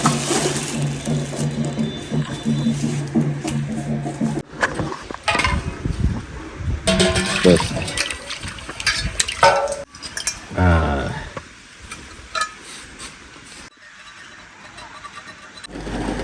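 Dishes, pots and utensils are washed by hand in a home kitchen, with irregular clattering, scraping and clinking of metal vessels, some bursts louder than others, and little talk.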